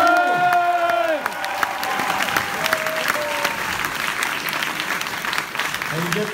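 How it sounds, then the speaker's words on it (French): Crowd at a strike rally meeting in Montreuil applauding and cheering loudly and steadily, a dense wash of clapping with a voice calling out over it at the start. "Faites du bruit pour Adrien."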